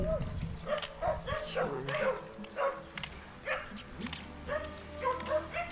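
Several dogs barking and yipping repeatedly at moderate distance, with whimpers mixed in and a busy outdoor background.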